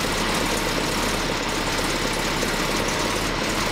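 A Jaguar car engine idles steadily in a workshop while its transmission is shifted through the gears, a continuous low rumble with faint knocking and vibration and no talk.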